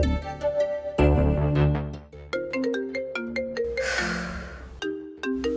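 A phone ringtone for an incoming call plays loud and close as a bright melodic tune of chiming notes that repeats in phrases, with a short noisy swell partway through and no talking.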